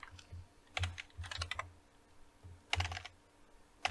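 Computer keyboard typing heard as quiet clusters of quick key clicks in two short bursts with pauses between them, no talking.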